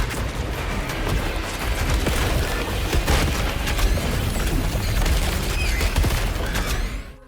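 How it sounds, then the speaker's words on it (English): Shotgun blasts in the game Saros after an active reload, the whole magazine emptying in a dense, sustained barrage of booming, explosive reports that continues for several seconds before cutting off. "This shotgun, for example, if you land an active reload, your next trigger pull empties the entire magazine instead of a single shot."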